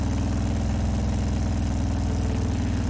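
A motorbike engine in the video game Trails of Cold Steel, a steady low rumbling drone held at an even level throughout, with no voices.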